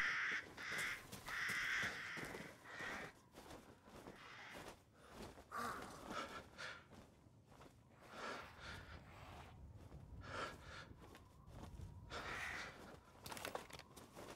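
Crows cawing in the video game Resident Evil Village, repeated harsh caws at a moderate distance over a dense ambient game soundscape with rustling and creaking.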